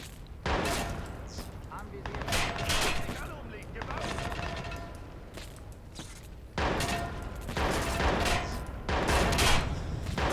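Sniper rifle shots and bursts of gunfire in the action game Watch Dogs, several loud sharp cracks with echoing tails spread through the stretch, mixed with game ambience and footsteps.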